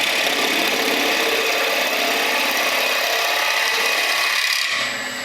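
A wood-turning lathe spins while a tool cuts into a small piece of wood, giving a steady, close, loud scraping hiss that fades out at the end.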